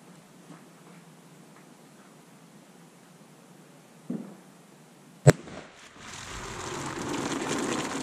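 A single sharp 6.5 Grendel rifle shot fired into ballistics gel cracks out against quiet background, followed by a rising hiss of broadband noise.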